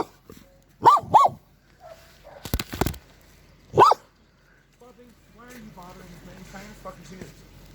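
A dog at an outdoor Rainbow Gathering camp in Taos, New Mexico gives a few sharp barks and yips in short bursts, close by, while people talk and another voice comes in toward the end.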